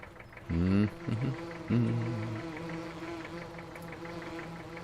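Bees droning in Farming Simulator 17 on a farm map, a steady close buzzing hum that carries on after a few brief vocal sounds at the start.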